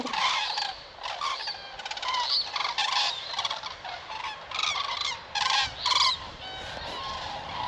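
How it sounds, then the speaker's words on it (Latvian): A flock of cranes calls while flying over a field at sunrise, loud overlapping honking cries that come in repeated bursts and carry on without pause. "Dzērves lido rekur."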